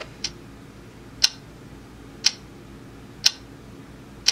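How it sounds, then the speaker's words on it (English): An AVANTEK white noise machine plays a clock ticking, with sharp, evenly spaced ticks about one per second over a faint steady hiss. "Okay, then well, that's a clock."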